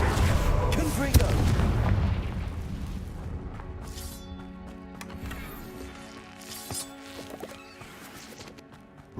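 A Confringo fire-blast spell from Hogwarts Legacy bursting in a booming, rumbling explosion that fades into a crackling, ringing tail over game music.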